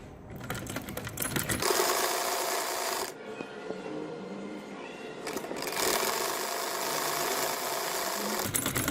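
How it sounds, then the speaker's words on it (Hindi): Sewing machine stitching the sleeve of a baby shirt runs in two long bursts of rapid mechanical whirring, close and loud, with a short pause between them. "अब मैं बाजू सीने लगी हूँ।"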